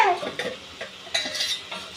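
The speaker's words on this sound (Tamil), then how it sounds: "இப்போ நல்லா கிண்டிக்கலாம்." Masala is stirred in a pan, a few clinking scrapes of a metal spoon against the vessel with soft rustling between strokes, close and fairly loud.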